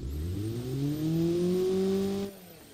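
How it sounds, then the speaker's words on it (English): A car engine with low-friction cast pistons revs up smoothly in a video game, the pitch climbing steadily before cutting off abruptly, loud and close with no talk. "Is the engine too loud?"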